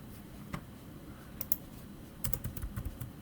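Code is typed on a computer keyboard in scattered bursts of sharp, close key clicks, with a quiet gap in the middle and a quicker run of taps near the end.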